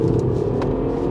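An F56 MINI Cooper 1.5 accelerates hard in second gear in manual mode, a steady, loud engine drone filling the short moment without any talk.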